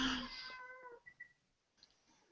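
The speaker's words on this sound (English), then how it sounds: "Oh, and the cat wants to come in." A house cat meows at the door wanting to come inside, one drawn-out, fairly loud cry followed by a couple of short, fainter chirping calls, heard alone.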